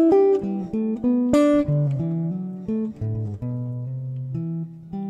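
Electric or acoustic guitar in a jazz soloing context playing a descending melodic sequence, clear plucked notes stepping downward in a steady phrase, close and alone with no talking.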